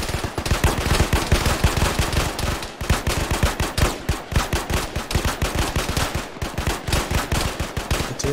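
Sustained automatic gunfire fills an Arma battle, loud, continuous rapid shots with only momentary breaks, dense and close throughout.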